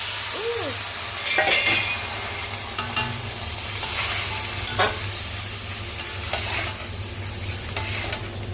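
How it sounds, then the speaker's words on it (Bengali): Ground spices fry and get stirred in coconut oil for a banana flower curry, giving a steady close sizzle broken by a few scraping stirs and light clinks of a spoon against the pan. "গুঁড়ো মশলা তো বেশি ভাজতে নেই, এতই হয়ে যায়। একটু নাড়াচাড়া দিলেই তো হয়ে যায়।"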